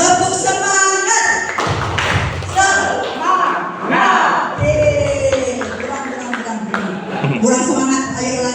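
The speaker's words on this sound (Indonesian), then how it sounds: "Nanti boleh ikut saya, tepuk semangat 3 kali ya." A group claps the rhythmic 'tepuk semangat' cheer, with sharp sets of claps mixed with shouted chanting voices, close and loud, alongside a leader's talking.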